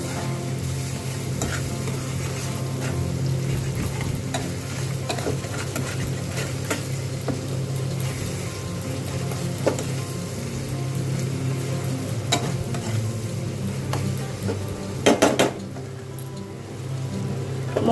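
Spice masala of red chilli powder and Kashmiri chilli powder stir-fried in a pan, a steady close sizzle with scraping stirs and a few sharper clatters of the spatula near the end.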